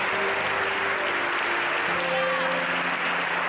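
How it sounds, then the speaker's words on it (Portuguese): A church congregation applauds in a steady, dense wash of clapping that holds for the whole stretch, with sustained voices and tones beneath it. "Dê uma salva de palmas ao Espírito Santo de Deus."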